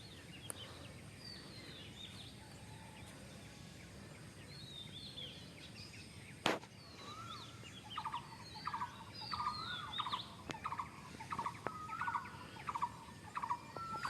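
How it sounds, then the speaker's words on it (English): Birds call outdoors in a quiet rural setting at Kaliabor Manor: scattered faint chirps, then a run of repeated clear whistled notes, with one sharp knock partway through and a soft ambient hiss underneath. "with the sound of the birds chirping at the back"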